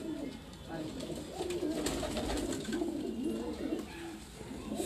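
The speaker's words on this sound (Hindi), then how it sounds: "बहुत ज़बरदस्त उनके देवबंद कबूतर, लाल मोतियों वाले कबूतर, ठुड वाले कबूतर, मोतियों वाले कबूतर" Devband, red-pearl and pearl pigeons coo on a rooftop loft in Larkana, Sindh, a steady low murmur of cooing under continuous nearby talk.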